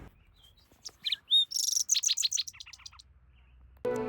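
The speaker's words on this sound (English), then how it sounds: "This little fella is a green-tailed towhee" A green-tailed towhee calls nearby at a campsite: a few thin whistled notes, then a rapid run of bright chirps, ending with a burst of rustling noise.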